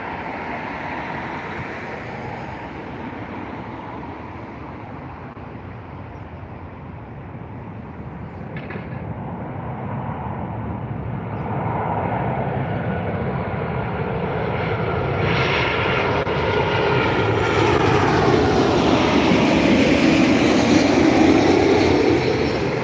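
A Ryanair jet arriving from East Midlands at Dublin Airport rumbles in from a distance, its engine noise building gradually louder over the stretch with no one speaking.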